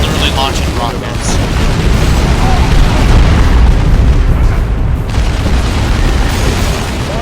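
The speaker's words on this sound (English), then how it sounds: "I'm literally launching rockets." Rockets launching and exploding in the Warhammer 40k Dawn of War 2 video game: a loud, continuous wall of booming blasts and rumbling detonations with no break.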